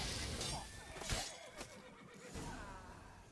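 Horses neigh in the Witcher 3 video game, a few whinnying calls rising over a dense game soundscape, with a short sharp burst near the middle and another just after.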